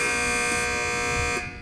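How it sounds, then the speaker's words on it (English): A loud, harsh electronic buzzer blares steadily for over a second at a quiz championship match, then cuts off abruptly. "Teams, wait for the buzzer if you'd like to answer."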